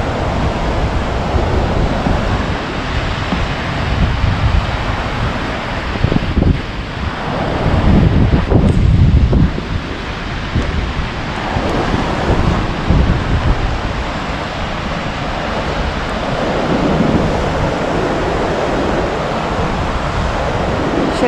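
Strong spring wind blows across the south pier of Lake Būšnieku near Staldzene, Latvia, roaring and gusting into the microphone over the steady wash of waves on the shore for about twenty seconds, louder in the middle, with no voices.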